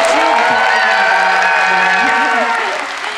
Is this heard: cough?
no